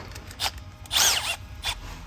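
A power drill fitted with a riveting adapter gives several short whirring bursts, including one longer rising whine in the middle, close and fairly loud.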